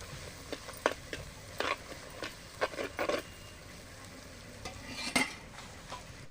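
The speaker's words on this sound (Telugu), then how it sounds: "ఒక చెంచా పసుపు వేసుకోవాలి కొంచెం కలగలిసినట్టు కలుపుకోవాలి" Mutton with turmeric is stirred in a pan for a Telangana-style mutton fry, with a spoon scraping and clinking at irregular moments over a soft, steady sizzle, fairly quiet and close.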